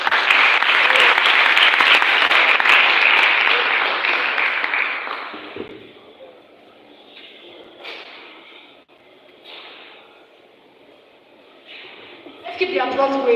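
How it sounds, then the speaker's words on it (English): An audience at a youth development workshop claps, a dense burst of applause for about five seconds that fades away, followed by quieter gaps with a few scattered sounds and a voice. "Keep the applause going, please"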